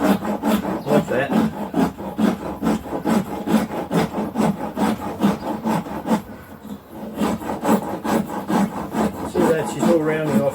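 Hand rasp shaping wood for a Native flute, with rapid, rhythmic back-and-forth scraping strokes, loud and close, continuing steadily with a brief lull midway.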